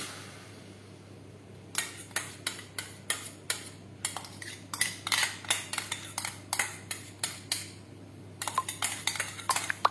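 200 grams of black grapes go into a pan for chutney, producing a quick series of light, evenly spaced taps and clinks close up, with no talking.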